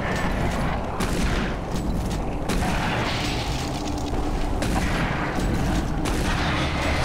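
Shotgun blasts and heavy booms from the video game Doom 3: BFG Edition fire in rapid, dense succession, loud and continuous, layered with game mechanisms and effects and no clear talk.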